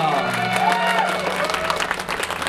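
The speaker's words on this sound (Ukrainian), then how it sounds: "І раз! Аплодуємо!" Steady clapping from a group of wedding guests, continuous and close, with a voice speaking briefly over the start.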